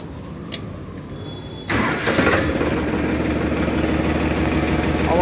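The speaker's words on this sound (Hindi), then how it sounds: "आवाज देखो कितनी प्यारी ट्रैक्टर की।" Quiet room, then a Farmtrac 45 tractor engine abruptly starts in neutral and settles into a steady, fairly loud idle with a low rumbling chug.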